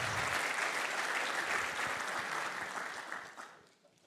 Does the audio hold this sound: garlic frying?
no